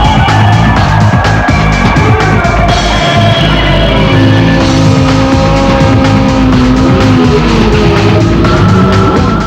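Drag racing at WesBank Raceway, with turbocharged Kawasaki bikes racing over 400 metres: loud, sustained engine roar with rising and falling whines, tire squeal, crowd noise and commentary mixed in throughout.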